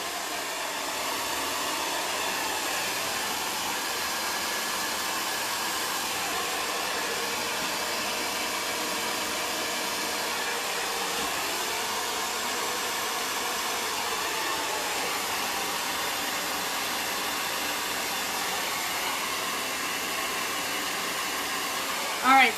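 Hair dryer blowing steadily for a poured-paint technique on furniture, a constant loud whooshing roar that holds without a break for the whole stretch.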